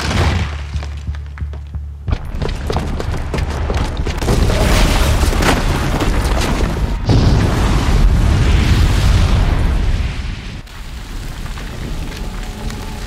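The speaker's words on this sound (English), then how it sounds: "the booby trap on the bomb downstairs is gonna get set off" A booby-trapped bomb blows up in the video game Horizon Zero Dawn, a loud booming blast followed by rumbling debris and roaring noise that swells and then subsides, with no talking.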